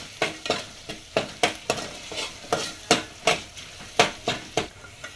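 Biryani masala is stirred into frying chicken biryani. A spoon scrapes the pan in quick, rhythmic strokes over a constant sizzle, loud and close.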